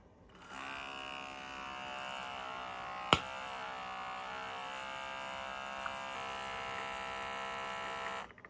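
An Outin Nano portable espresso machine brews from a capsule with a steady, close electric pump whine and hum lasting about eight seconds, a single sharp click partway through.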